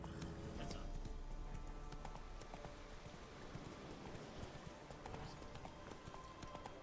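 Horse named Roach galloping in The Witcher 3, a rapid rhythmic clip-clop of hooves running continuously, close and steady, with faint ambient game sounds beneath and no talk.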